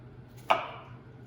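A single sharp knife chop through an onion onto a cutting board, one quick close thud-and-crack over a low steady hum.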